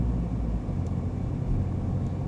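Steady low rumble of a Mini city car driving, heard from inside with constant engine and road noise and no talk.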